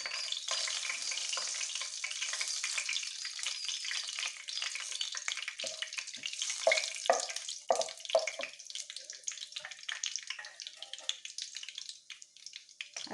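Cinnamon, cloves, fennel seed and cardamom fry with a bay leaf in hot oil, giving a steady, faint crackling sizzle with small pops that sounds close and carries no voices.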